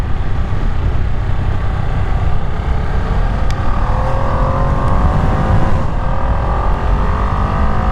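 A 2025 Ducati Panigale V2 motorcycle is ridden at speed, a loud continuous engine drone with steadily climbing pitch sweeps and rushing wind noise, no talking.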